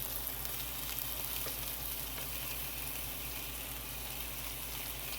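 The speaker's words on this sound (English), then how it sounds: "So we'll go ahead and add the rice here and just spread it around." Pork chops sizzling in an electric skillet as rice is spread among them: a steady, close frying crackle with hissing throughout and faint stirring scrapes, no talk.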